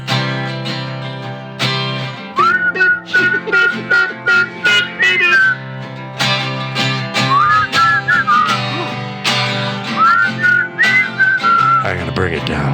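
A person whistles a lively melody with sliding, warbling notes over rhythmic music, the whistle loud and close.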